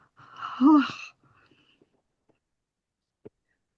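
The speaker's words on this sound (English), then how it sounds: "Another big yawn trying to come up." A big human yawn, one drawn-out rising and falling breathy vocal sound close to the microphone, followed by near silence and a small click.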